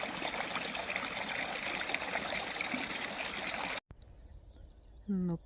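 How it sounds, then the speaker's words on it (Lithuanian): A small marsh stream rushes and trickles steadily at close range, then cuts off abruptly into quiet, and a voice follows briefly. "Upeliukas, upeliukas."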